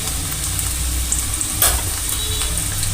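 Garlic pieces fry in hot oil with popped mustard seeds, giving a steady, close sizzle with faint crackles and a brief louder spatter midway, no voices.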